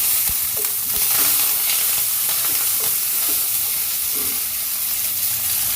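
Curry leaves frying in hot tempering oil in a pan, following cardamom, while cooking Chennai-style vada curry; a steady close sizzle and hiss runs throughout with faint stirring knocks and no talk.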